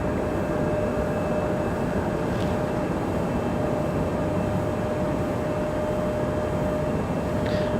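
A Delta airliner departing Raleigh Durham airport for Los Angeles gives off a steady, broad jet rumble, loud and unbroken, with faint background hum and no voices.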